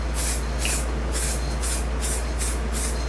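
Several short bursts of spray hiss repeat in a steady rhythm, each about a third of a second, close by over a constant low hum, as metal flake paint is sprayed onto a Shovelhead motorcycle tank.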